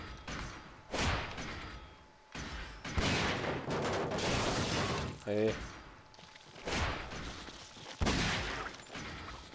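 Repeated heavy gunshots and blasts in Resident Evil 4 come in several separate bursts, loud, with a player speaking briefly between them.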